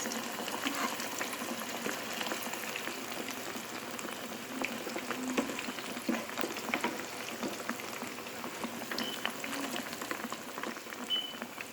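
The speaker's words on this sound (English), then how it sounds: "I'm going to allow it to fry until it will start caramelizing, turning a little brown, not too dark" Plantain slices fry in oil in a pan, giving a steady, soft bubbling sizzle with scattered crackles and pops that runs continuously, fairly quiet and close, with no one talking.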